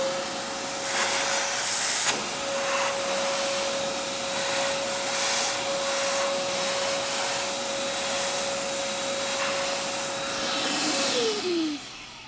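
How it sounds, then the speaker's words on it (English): A vacuum cleaner runs steadily close by while clearing grounds from the burrs of a Mahlkonig EK43 coffee grinder, a loud continuous whine and airy rush that holds for about twelve seconds before dropping in pitch as it winds down. "I'm just going to grab my vacuum here."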